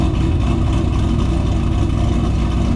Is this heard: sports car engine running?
yes